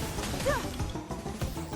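Heavy smashing attack by a construct in Hyrule Warriors: Age of Imprisonment, a dense crash with whooshing sweeps and a brief ringing tone amid steady battle noise.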